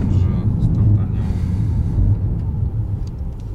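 A car's engine rumbles low and steady as it launches from a start, close and loud throughout, with people talking over it.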